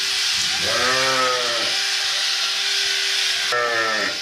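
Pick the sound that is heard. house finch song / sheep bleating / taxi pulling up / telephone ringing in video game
sheep bleating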